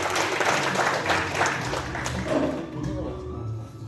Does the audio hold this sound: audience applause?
yes